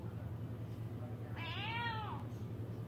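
A single cat meows once, a short rising-falling cry, heard faintly over a steady low hum.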